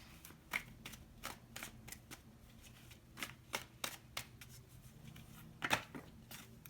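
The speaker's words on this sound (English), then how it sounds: "I'm going to lay out 9 cards" Tarot cards are laid out one at a time onto a surface, nine in a row, as soft separate slaps and flicks with pauses between, close and quiet with no voices.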